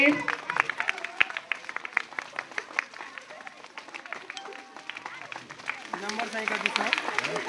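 Students applaud at a school event where warm sweaters and caps are handed out, rapid irregular claps rising and thinning across the gathering, mixed with murmuring voices.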